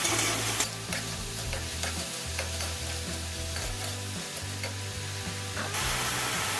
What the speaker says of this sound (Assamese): এতিয়া মই শাকখিনি ভালদৰে ভাজি ল'ম।